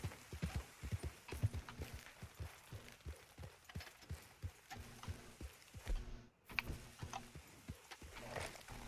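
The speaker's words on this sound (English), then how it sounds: "You can jump right onto the horse and just take off." Rapid hoofbeats of a galloping horse in the video game Red Dead Redemption 2, continuous and fairly close, with a brief break partway through and no talking.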